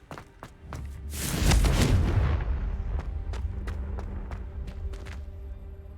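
Confringo blasting spell explosion in Hogwarts Legacy: a deep, loud boom that swells and rumbles for a couple of seconds, with sharp clicks and thuds scattered before and after as the roar fades.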